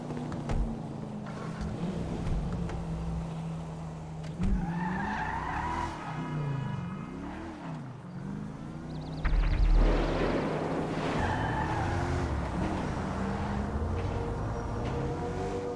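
A black bulletproof SUV tears away at speed, its tires squealing and skidding over a roaring engine that rises and surges, loud and close, with no voices.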